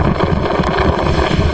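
Strong gusting wind sweeping an outdoor festival ground in Mamuju with vendor tents and a stage, heard as a loud, steady roar buffeting the microphone up close, with no talking.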